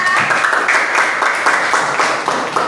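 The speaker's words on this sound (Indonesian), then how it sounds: "Kasih tepuk tangan yang meriah." A class claps for the integrity group after a presentation, loud close applause with a rhythmic, pulsing quality throughout the short burst.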